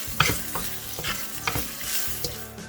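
A spoon stirs shrimp seasoned with black pepper and salt in a sizzling pan, making several quick scraping strokes over a constant crackle, close and fairly quiet, with no talking.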